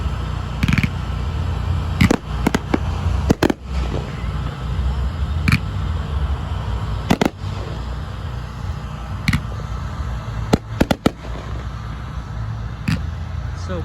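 A backyard fireworks show of shells, cakes and fireballs sends out irregular sharp bangs and pops, some in quick clusters, over a steady outdoor background rumble. The bursts sound fairly distant to moderately close.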